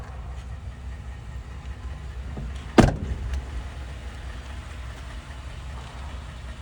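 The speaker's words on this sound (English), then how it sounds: "Power sliding rear window." The power sliding rear window of a 2012 Ford F-150 crew cab Lariat moves in a brief burst over the low hum of an idling truck.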